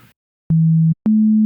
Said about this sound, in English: We have a sine wave, which is just a single harmonic,